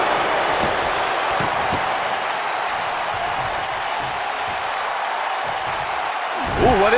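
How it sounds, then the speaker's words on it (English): A steady roar of arena crowd noise fills a WWE 2K19 wrestling match on SmackDown, continuous and hissy like applause, with a commentator's voice briefly rising near the end. "Another electric crowd on hand here for SmackDown"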